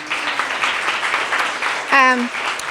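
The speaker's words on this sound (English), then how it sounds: "give them a round of applause" An audience at a Domestic Violence Awareness Month event claps steadily in a dense, sustained round of applause, with a voice briefly cutting in near the end.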